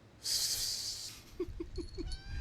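A house cat gives a breathy, hiss-like burst, followed by a quick run of four short, soft calls in steady rhythm, heard close by with no talking.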